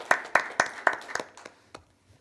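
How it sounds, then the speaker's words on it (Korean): A church congregation claps in thanks and glory to God at a Korean worship gathering, a short series of sharp, fairly faint hand claps in a loose rhythm that trails off into quiet. "아버지 하나님 앞에 감사와 영광의 박수를 올려드리겠습니다"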